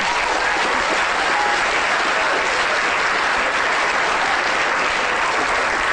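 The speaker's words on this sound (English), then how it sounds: "Applause for Amy, please." A lecture audience bursts into sustained applause, a dense, even roar of many hands clapping at full strength for the whole stretch with no talking.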